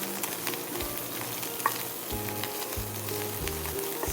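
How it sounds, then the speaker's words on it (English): Breakfast sausage sizzles and fries steadily in a pan, with a constant crackling hiss and occasional stirring scrapes, and no voices. "Here is our breakfast sausage. Really starting to pick up some color."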